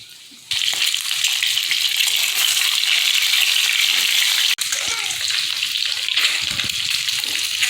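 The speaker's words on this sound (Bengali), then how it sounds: "এখন ডিমগুলো আমি গড়িয়ে নিব।" Eggs hit hot oil spiced with clove, chili powder, turmeric and salt, bursting into a loud, steady hiss that carries on with a brief break midway, close up and without speech.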